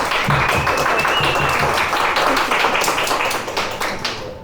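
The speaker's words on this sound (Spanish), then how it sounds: "un fuerte aplauso por eso, chicos." Audience applause at a talk about women cannabis entrepreneurs, dense hand clapping that starts loud and close, carries on for several seconds, then fades toward the end.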